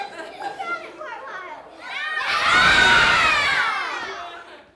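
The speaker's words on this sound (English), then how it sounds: "Why is everybody screaming?" Children scream and shout together at a science event, the noise swelling into a loud, sustained crowd of young voices after some quieter chatter.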